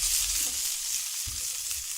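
Ground steak pieces and bacon bits sear in a hot pan for an omelette, giving a steady close hiss with a soft stirring thump partway through, no voices.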